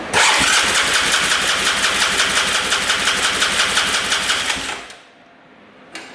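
An ATV engine cranks over with the throttle held open during a compression test, a loud, steady rapid chugging of the starter for about five seconds that then stops abruptly, leaving near silence and a brief faint click.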